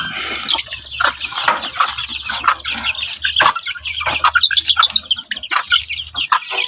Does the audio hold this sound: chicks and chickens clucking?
yes